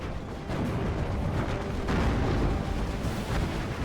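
Artillery fire rumbles constantly through the World War II strategy game Steel Division: Normandy 44, a dense, heavy roar of overlapping booms and blasts that holds loud for the whole stretch.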